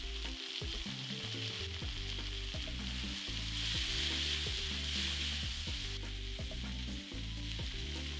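Tomatoes, peppers and garlic fry steadily in a hot pan, a dense, continuous sizzle with occasional stirring scrapes throughout, close and loud with no talking.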